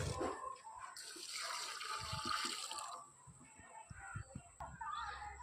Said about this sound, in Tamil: பாருங்கள், இந்த கொய்யா செடிக்கு ஊற்றுறேன்.